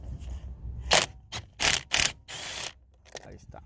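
Pneumatic impact gun with a 13 mm socket loosening a bolt while removing a wiper switch from a 2008 VW Rabbit, Golf, Jetta or Passat: several short, loud rattling bursts close by, separated by brief pauses.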